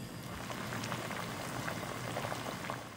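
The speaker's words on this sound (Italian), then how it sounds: "Poi scotto per un paio di minuti in acqua bollente." Savoy cabbage leaves boiling in a pot of water, a steady bubbling hiss of simmering liquid that holds at even loudness throughout, close by and with no voices.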